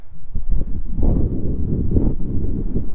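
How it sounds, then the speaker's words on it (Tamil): Strong gusts buffet the microphone on Sirumalai Hill in Dindigul during a motorbike ride, with rain around. The rumbling, low wind is loud and close and churns continuously in uneven bursts. "பயங்கரமான காற்றுங்க, ஃபுல்லாக கையை ஆடுது"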